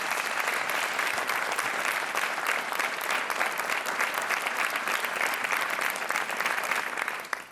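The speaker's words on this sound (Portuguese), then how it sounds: "Um aplauso merecidíssimo para o Miguel" Dense, loud applause from a studio audience on a TV quiz show, a continuous wash of clapping that holds steady before tapering off at the very end.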